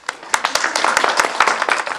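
A conference audience gives a short burst of brisk applause, many hands clapping close together in an uneven, crackling patter.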